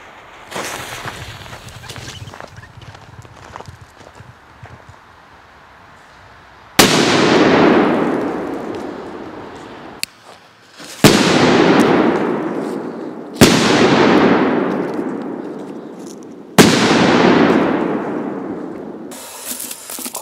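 Crackling, hissing ground flower fireworks fizz, then four loud bangs go off at regular intervals, each followed by a long crackling shower that fades away.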